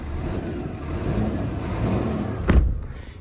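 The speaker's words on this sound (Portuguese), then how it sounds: "6 cilindros trabalhando aqui," Scania truck six-cylinder diesel engine running in a GH cab, a steady low rumble close by with a brief thump near the end.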